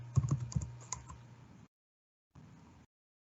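Quick bursts of key clicks from someone typing a search into a library catalogue on a computer keyboard, close and fairly quiet, with a pause of silence before a short second burst.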